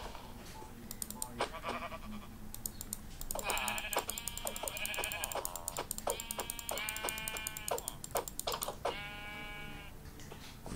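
Blocky sheep bleat in Minecraft, with several short tonal calls in a cluster at moderate volume, mixed with rapid keyboard-like clicks and game effects throughout.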